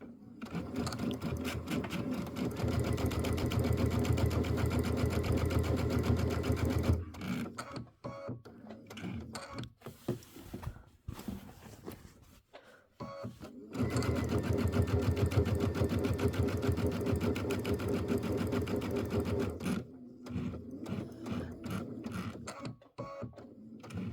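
A home sewing machine stitches through a quilt's layers in two long, steady runs of rapid mechanical whirring, separated by a pause with light handling noises. It stays fairly quiet and close throughout.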